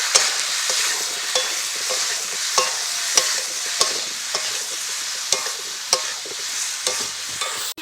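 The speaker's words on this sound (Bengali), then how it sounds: "এটাকে একসঙ্গে একটু ভালো করে কষিয়ে নেব।" Spices with salt, turmeric and chilli powder stir-fried in a pan for a village-style curry, a steady loud sizzle with repeated scraping stirs of a spoon against the metal, no voices.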